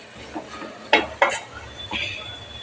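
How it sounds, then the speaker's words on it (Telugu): Pre-fried dried fish (nettallu) drops into a pan of cooked tomato paste for an egg curry, producing a few sharp metallic clinks and scrapes of a spoon against the pan over a faint sizzle. "ఇప్పుడు ముందుగా వేపి పెట్టుకున్న నెత్తలు వేసుకోవాలి"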